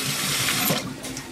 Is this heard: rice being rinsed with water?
yes